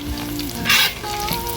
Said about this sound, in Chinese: 今儿个俺用的是上回榨的菜籽油，刚倒进去都可以熬制葱油了。